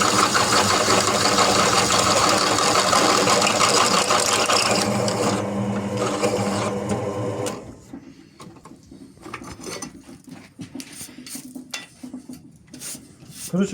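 A JET drill press runs loudly with a dense, steady mechanical roar for about seven seconds, then winds down, leaving quieter clicks and handling noises.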